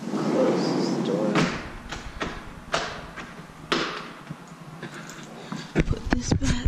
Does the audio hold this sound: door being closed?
yes